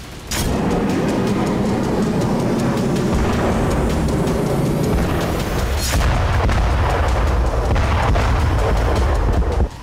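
Heavy booms and blasts from a Russian attack on Kyiv roll continuously, with sharp loud bursts near the start and around the middle over a dense, rumbling background.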